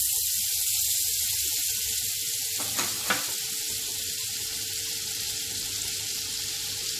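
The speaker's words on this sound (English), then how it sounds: "Into this wok, I am adding some butter." Butter sizzles and fries steadily in a hot wok, a constant bright crackling hiss at close range with a couple of brief clatters partway through, and no talking.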